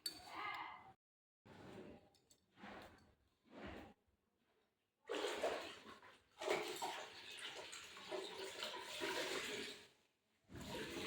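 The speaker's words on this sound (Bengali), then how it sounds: "ঘরটা মুছে নিই তারপর তোমাদের সঙ্গে পরে কথা বলছি" Water sloshes and splashes in uneven bursts while a floor is mopped with water at home, with short pauses, then a longer stretch of steady wet swishing and dripping.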